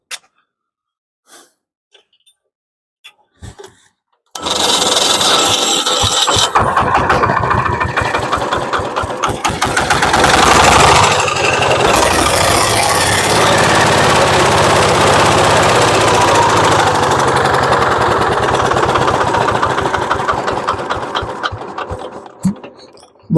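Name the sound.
repaired Zubr tractor engine starting and running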